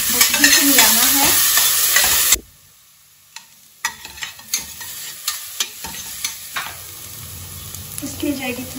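Onion, ginger, garlic, green chilli and coriander are stirred in a hot pan, a loud sizzle under scraping spoon strokes. The sizzle cuts out briefly, then a run of separate clinks and scrapes follows before the frying swells again.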